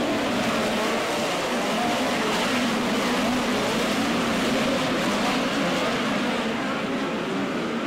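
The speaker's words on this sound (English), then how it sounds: "Good racing all over the speedway" Midget race cars in a POWRI Lucas Oil National Midget League A-Main thunder around a speedway, a dense continuous engine roar of several cars at once, loud and unbroken.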